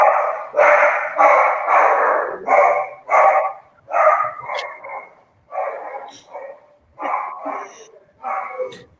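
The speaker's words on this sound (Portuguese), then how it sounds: "Tem alguém com cachorrinho aí." Repeated yappy barking from a small dog, about a dozen sharp bursts in irregular quick runs over nine seconds, fairly close and loud, with no other sound between barks.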